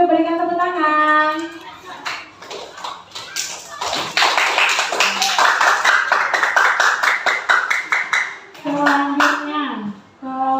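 Students in a classroom break into a burst of rapid hand clapping lasting several seconds, with a speaking voice before and after the applause.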